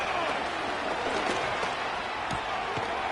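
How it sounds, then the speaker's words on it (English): A stadium crowd roars at Arrowhead during a Chiefs vs. Raiders football game, a dense, constant wash of noise at full volume with faint thumps and claps inside it, broadcast commentary beneath. "The Arrowhead crowd in full roar"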